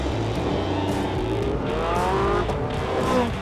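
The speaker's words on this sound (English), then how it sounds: "Soon, the McLaren and the Porsche were ready for some shakedown laps." McLaren P1 and Porsche 918 supercars on shakedown laps at a track, one engine droning steadily and loudly close by with rising revs and faint tire noise, no talk.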